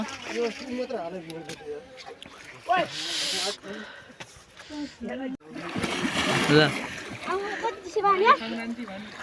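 Crowds bathe in the deep, cold Kamala river during the Maghe Sankranti festival, with repeated water splashes and churning under near-constant overlapping voices and chatter.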